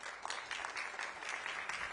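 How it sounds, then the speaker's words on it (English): Audience applause at a global partnerships conference, a short burst of steady clapping from a crowd at moderate distance. "let's give Zoisa another round of applause"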